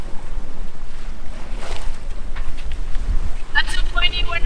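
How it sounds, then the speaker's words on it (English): Strong wind buffets the microphone aboard a sailing catamaran in rough seas, with waves sloshing under a loud, continuous rushing roar and some faint background voices. "Wind has gotten stronger."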